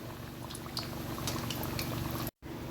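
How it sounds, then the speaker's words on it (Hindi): Meethi tiki frying in oil over medium heat, a soft continuous bubbling sizzle with small crackles, fairly quiet and close, broken by a brief dropout near the end. "मीडियम आंच पे हमने अपना ऑयल रखा था और अभी हम इसको फ्राई कर लेंगे।"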